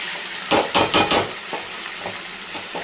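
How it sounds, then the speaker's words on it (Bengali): Chicken sautés with spices in a pan for a curry: a soft background sizzle with a quick cluster of utensil scrapes and knocks, then a few lighter stirring taps. "মশলা দিয়ে চিকেনটাকে পুরো কষিয়ে নিচ্ছি আগে"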